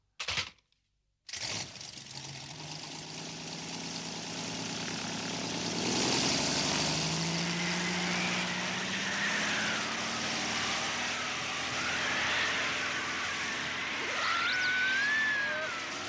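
A toy jet airplane makes a steady whirring, roaring engine drone that swells and sustains fairly loudly after a brief click and pause at the start, with a rising whine near the end.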